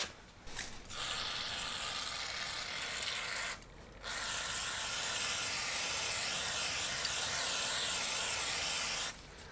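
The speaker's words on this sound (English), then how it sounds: "I'm gonna go ahead and hit it with some brake cleaner and wipe it down" A steady, close hiss of brake cleaner sprayed onto a brushed-down car wheel hub, in two long bursts separated by a short pause, with faint rubbing mixed in.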